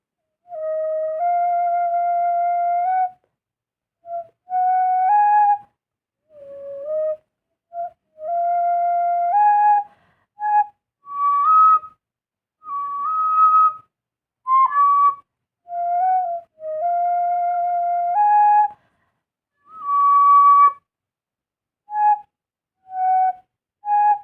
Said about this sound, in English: how I could play it on tin whistle.